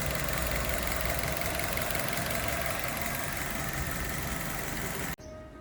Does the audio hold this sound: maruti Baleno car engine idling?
yes